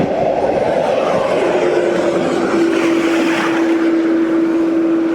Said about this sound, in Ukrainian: В червоних кольорах це швидкісний потяг.